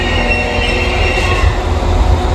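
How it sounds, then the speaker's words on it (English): A train at a railway station rumbles steadily and loudly throughout, with wheel squeal and a continuous low roar, no speech over it. "So this is the train."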